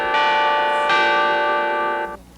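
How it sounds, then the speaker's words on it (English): Carillon bells on the Shenendehowa School campus ring out loud and sustained, a rich layered peal with a fresh strike partway through, then cut off and leave quiet room tone. "The carillon bells rang out here this afternoon"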